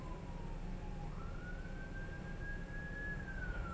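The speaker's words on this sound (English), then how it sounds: "Would not be a video without an ambulance." Ambulance siren heard from a distance, one slow wailing tone that falls then rises and holds, faint over a dense low rumble, with no talking.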